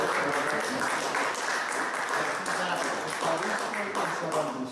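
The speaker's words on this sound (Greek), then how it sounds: "Ένα χειροκρότημα παρακαλώ." Steady, even audience clapping continues throughout after a talk about a pilgrimage to Cyprus, with some voices faintly mixed in.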